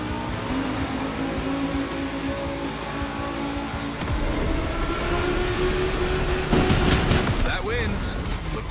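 Racing car engine in The Crew Motorfest, a steady loud drone of revs with a sharper, louder surge about halfway through and a brief squeal near the end.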